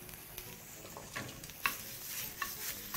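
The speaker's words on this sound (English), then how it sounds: "Mix through once more." Soy lamb stew with sultanas is stirred in a hot pan: a soft background sizzle with several scraping spoon strokes and light knocks, close by and without talk.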